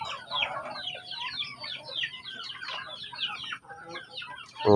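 Backyard chickens cluck and chatter continuously at close range, many overlapping calls forming a busy flock murmur, with a sharper louder squawk bursting in at the very end.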